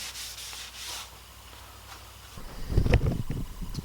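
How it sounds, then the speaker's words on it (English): Sanding a reclaimed barnwood mantel: soft scratchy rubbing strokes, faint at first, then louder and rougher passes toward the end, heard alone without speech. "So when I sand it down, it'll all kind of blend."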